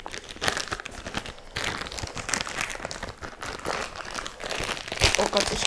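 Crinkly plastic packaging around a new wig being torn and unwrapped up close, with a voice speaking over the rustling.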